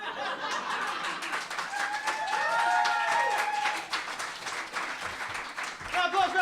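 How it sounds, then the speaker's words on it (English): Audience applause at a live birthday stage show, steady clapping that builds through the middle and holds for several seconds, mixed with crowd murmur and scattered voices. "Applause for our 2 volunteers!"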